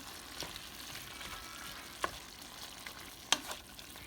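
Onion and garlic frying with seasoned beef in a pan, a soft, steady sizzle with a few faint clicks and scrapes from stirring, close but quiet.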